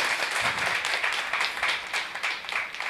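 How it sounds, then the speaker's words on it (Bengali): Dense, steady audience applause fills the hall at a jatra folk-theatre opening ceremony, a short burst of many hands clapping together with no voices over it. "হাততালি।"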